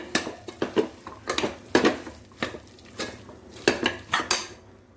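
Carrots and beans stirred in a cooking pot, with a steady run of close, sharp clinks and scrapes of a utensil against the metal, about a dozen strokes in an uneven rhythm, with no talking.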